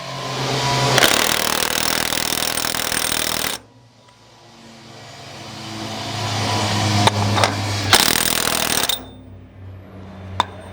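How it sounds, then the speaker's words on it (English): An impact wrench with a 2-inch socket working on a 1950 Ford 8N tractor: a long loud hammering burst, a pause with a low idling hum, then a second short loud burst and a final clank. "right now we're just going to hit it with an impact"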